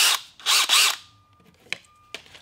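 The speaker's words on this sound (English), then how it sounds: "now that I have my pilot holes drilled" A power drill with a 5/16 bit whirs in two short, loud bursts drilling pilot holes for a shower drain, followed by quiet clicks and a faint lingering tone.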